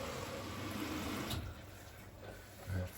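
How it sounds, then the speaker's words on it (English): Water rushes into a Bosch Serie 4 washing machine as it fills, a steady broadband hiss and gush at low level with a brief swell near the end and no talking. "Filling up with water there"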